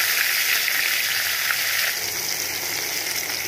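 Tomatoes frying in hot oil with five-spice and dried chilli give a steady, loud, close sizzle that hisses evenly throughout, dipping slightly in the second half, with no voices.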